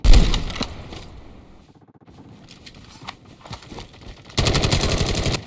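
Rapid automatic gunfire in the Call of Duty Mobile video game, loud bursts at the start and end with quieter scattered shots between.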